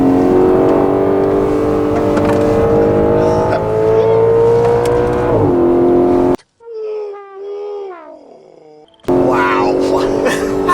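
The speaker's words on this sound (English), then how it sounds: "Wow, that sounds like a Formula One car." A 2013 Audi RS5 engine revs loudly and holds a high, rising whine, then drops away to a distant revving before roaring back up close.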